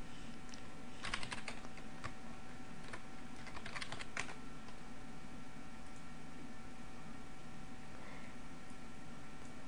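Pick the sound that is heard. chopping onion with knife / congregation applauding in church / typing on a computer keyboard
typing on a computer keyboard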